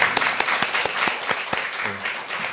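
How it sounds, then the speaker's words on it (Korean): Brief scattered applause from a seminar audience greeting an arriving panelist, a handful of distinct claps ringing out irregularly, with a voice heard briefly near the end. "한번 박수 부탁드립니다."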